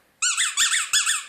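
Three quick high-pitched squeaks from a squeezed rubber pig-shaped dog toy, close and clear against silence.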